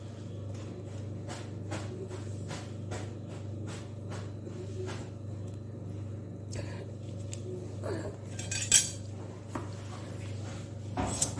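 A knife cuts jackfruit seeds for a Bengali jackfruit curry, giving a series of sharp, irregular clicks and taps on a board over a low steady background hum.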